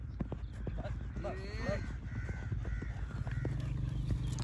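A horse foal trots along with faint, rapid clip-clopping hooves, while crows caw nearby and people talk quietly in the background.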